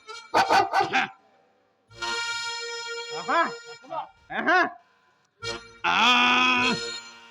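Several sharp dog barks in quick bursts, close by and loud, mixed with a person's voice and some drawn-out vocal sounds between them.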